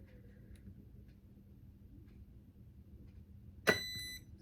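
A single short, high electronic beep from the speed controller of an Arrma Felony 6S RC car during calibration sounds near the end of a quiet stretch with faint background hum and clicks.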